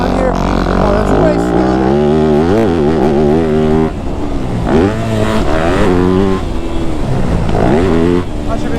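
Yamaha YZ250F motocross bike from 2025, in third gear, chugging and pulling hard out of corners on a motocross track, its loud buzzing engine note rising and falling in repeated surges with talk running over it.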